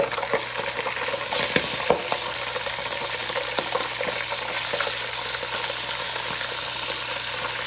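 Fish cakes frying in hot oil, a continuous loud sizzle with scattered pops and crackles, a couple of sharper spits early on, and no voices.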